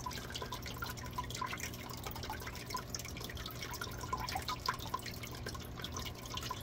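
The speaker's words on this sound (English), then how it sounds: "It's actually running down all the rocks when it gets right there." Water trickling and dripping down rocks in a Nile monitor enclosure, a steady close splashing flow with scattered drips throughout, no talking.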